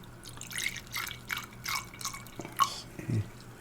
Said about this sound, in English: pour half in each